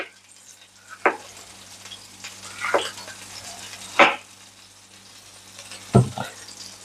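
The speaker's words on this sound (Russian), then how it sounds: "а пока жарятся наши баклажаны" Steady sizzle of eggplant frying in a pan, with a few sharp scrapes and clatters from stirring at irregular intervals.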